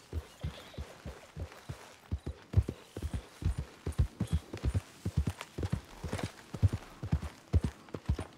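Horse hooves clip-clopping in the Red Dead Redemption 2 video game, a steady, loud, close rhythmic series of hoof beats at a walking pace, continuing without pause and without talk.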